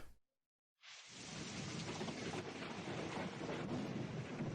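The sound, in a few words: rain and thunder in a played musical track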